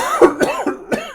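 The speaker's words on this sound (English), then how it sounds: "if you don't know why I'm coughing" A man coughs three times in quick succession at close range, the dry, rough bursts standing alone with no talk, while he plays a Starsector strategy game.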